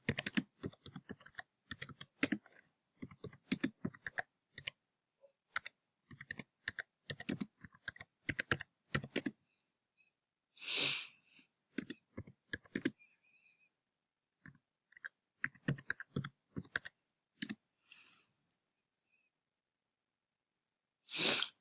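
Fast bursts of keystrokes on a computer keyboard, someone entering a permanent address into an online form, with quiet pauses between runs of clicking taps and a few isolated louder clicks.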